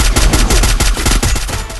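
Rapid automatic gunfire from the Free Fire mobile battle game, a loud, close burst of fast repeated shots filling almost two seconds without a pause and with no talk.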